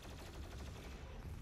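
Rapid video-game gunfire rattles continuously and loudly throughout, a dense burst of shots with no pauses.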